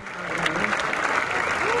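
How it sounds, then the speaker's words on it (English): Large stadium crowd cheering and applauding steadily as a runner comes down the straightaway to win a 10K at a track and field championship, a dense continuous roar throughout. "Big crowd cheering him on."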